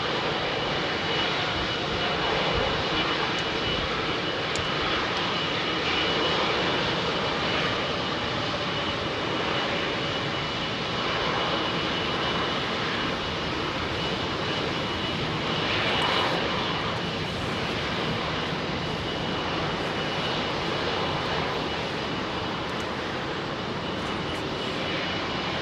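A jet airliner with high aspect ratio, raked-tip wings takes off from runway 27R at London Heathrow, its engines roaring loudly and steadily close by throughout, with no talk.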